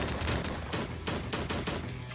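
Shotgun fire in the horror game Slendytubbies III, a dense run of loud blasts packed tightly together with no pauses, heard alone.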